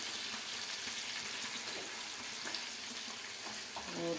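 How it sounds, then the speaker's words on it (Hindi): Masala for chicken pulao sizzles and roasts steadily in a pot, a soft continuous frying hiss with light stirring scrapes throughout. "तो अच्छे से हम यहाँ पे रोस्ट कर लेंगे"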